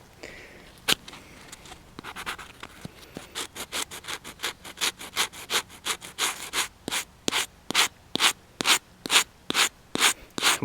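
Sandpaper strips the coating off an Izula-II knife in steady back-and-forth strokes: sparse at first, then a quickening, regular rasping rhythm of close, loud passes.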